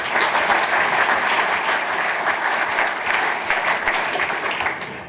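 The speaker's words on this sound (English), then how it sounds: "I think they deserve a round of applause." A conference keynote audience applauds its speakers in a loud, dense burst of clapping that holds steady before tapering off at the end, with no one speaking.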